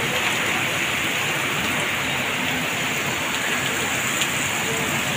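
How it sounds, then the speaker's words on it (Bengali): Heavy rain pours steadily onto a road, a dense, constant hiss of loud rainfall filling the whole stretch without pause. "মুষলধারে বৃষ্টি।"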